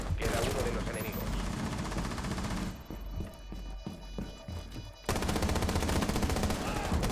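Rapid automatic gunfire in the video game Rainbow Six Siege rattles in dense bursts, then individual shots crack sharply in a quieter stretch before heavy firing resumes.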